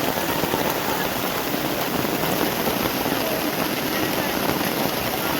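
Rain pours down on an outdoor get-together at Kongkur, Dulung, a dense, even hiss of drops drumming on surfaces and shelters that holds steady and close for the whole stretch, with a faint engine-like hum underneath.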